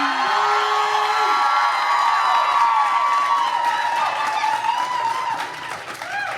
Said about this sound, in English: I've never heard a crowd that loud for you when you come out here